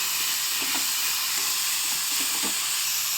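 Sprouted mung bean and tomato curry sautéing in a pan, a steady broadband sizzle with faint scattered stirring clicks, close and continuous with no talk.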